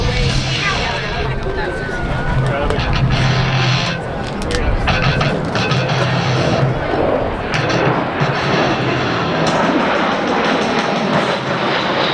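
An A-10 close air support jet roars loudly and steadily at an airshow, its engine noise filling the air above a murmuring crowd, with people talking throughout.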